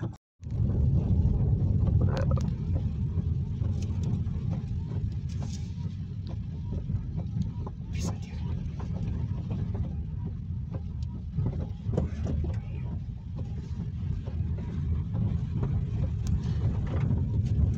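A car drives along a road toward Utena in Lithuania, past road works, with a continuous low interior rumble and road noise that holds steady throughout, plus occasional faint clicks and knocks.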